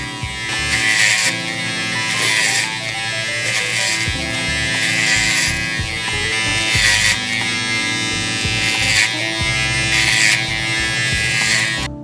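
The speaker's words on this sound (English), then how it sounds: "I'm gonna cut down the bulk with the 3-guard lever open." Electric hair clippers with a 3 guard, lever open, buzz continuously while cutting down the bulk of the hair, the steady drone swelling and easing rhythmically as the blade passes through.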